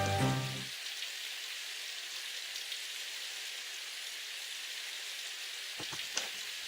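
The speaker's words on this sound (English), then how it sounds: "muffling the sound of the rain on the pavement" Steady rain hissing on pavement in the visual novel game Symphonic Rain, a soft continuous wash that runs almost alone after a short tonal sound at the start, with a couple of faint taps near the end.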